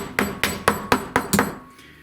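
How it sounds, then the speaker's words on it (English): A rubber hammer taps a workpiece clamped in a Harbor Freight X2 Sieg mini mill with a CNC conversion: six close, solid knocks at a steady, even pace, each fading quickly, with no talking. "I'm just going to tap it with this rubber hammer,"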